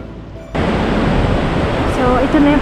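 Takakkaw Falls in British Columbia, Canada, heard from its closest viewpoint in misty spray: a loud, steady broadband roar of rushing water that starts abruptly and stays constant, close and enveloping.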